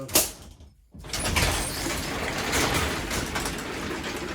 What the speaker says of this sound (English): Let me open the shop door so we